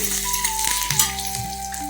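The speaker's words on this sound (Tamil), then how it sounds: "பருப்புலாம் நல்லா ஃப்ரை ஆயிடுச்சு இப்போது கருவேப்பிலை சேர்க்குறேன்" Curry leaves tossed into hot oil with fried lentils for lemon rice, a bright close sizzle and crackle over a steady hum, with a couple of soft knocks against the pan.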